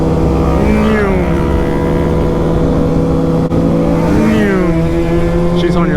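Kawasaki ZX6R sport bike engines idle and rev nearby, with rising and falling engine tones and loud, constant exhaust drone, while people talk over the noise.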